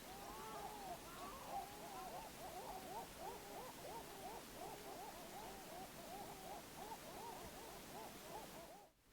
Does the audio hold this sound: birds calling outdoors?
yes